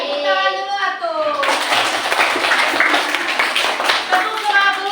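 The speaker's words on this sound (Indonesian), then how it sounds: "Tepuk tangan dulu supaya semangat." A class of pupils in an Islamic religious education lesson bursts into loud group clapping after a child's sung or spoken line. The dense clatter goes on for several seconds with voices mixed in.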